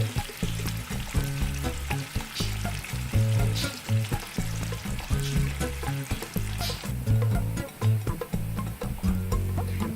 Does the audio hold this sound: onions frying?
yes